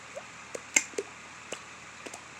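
A voice imitates water dripping into a bucket with a series of short, wet mouth clicks and pops, about eight of them in an irregular rhythm, fairly quiet and close, with no talking.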